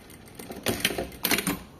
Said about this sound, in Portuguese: aí a gente faz esse pesponto um pouquinho mais largo, ó